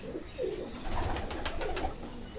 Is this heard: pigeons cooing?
yes